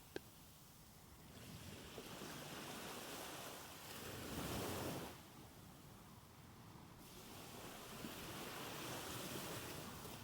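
Steady ocean surf rolls and washes continuously, a soft broad roar that swells and recedes in slow waves, moderately loud and alone with no voices.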